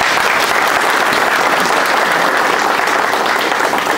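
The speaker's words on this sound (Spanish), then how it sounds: "Vamos a darle un aplauso al Señor" A lecture audience at a conference on the role of the sentence-enforcement judge claps together in a dense, steady round of applause that stays loud and unbroken throughout.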